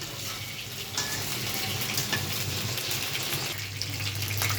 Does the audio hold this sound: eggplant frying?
yes